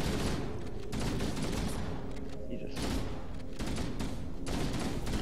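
Rapid continuous gunfire fills a Halo 1 firefight in the Library, dense bursts of shots with a voice talking over the shooting.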